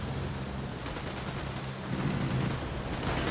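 Rapid gunfire from a shooter video game, a steady burst of automatic shots with a dense crackling texture lasting a few seconds, fairly loud and heard with no speech.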